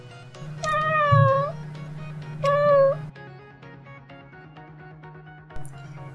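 A Palico feline companion in the video game Monster Hunter World gives two drawn-out, rising-and-falling meows over a steady low hum, followed by softer scattered game sounds.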